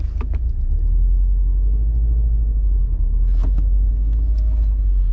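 A manual stick-shift car rolling to a stop under braking, a steady close engine and road rumble throughout with a few brief clicks and knocks from the pedals and cabin.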